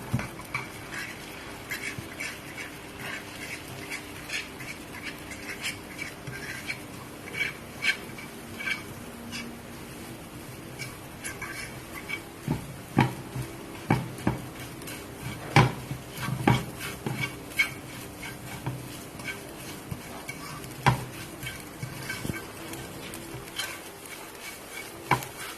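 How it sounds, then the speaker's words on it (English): Two eggs being scrambled in a pot for shrimp fried rice, a utensil repeatedly scraping and tapping against the pot in an uneven rhythm, fairly quiet and close, without talking. "So now I'm just gonna scramble my egg,"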